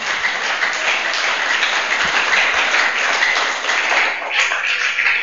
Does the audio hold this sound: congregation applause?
yes